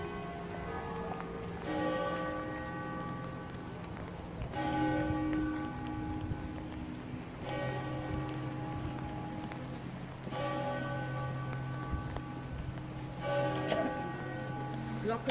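Church bells ringing on a street leading to a church in Krefeld, Germany, with repeated loud peals swelling every few seconds over rain-like background noise, while people talk quietly underneath.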